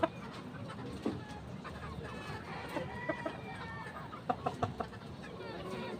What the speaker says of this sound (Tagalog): Magandang manok to, you know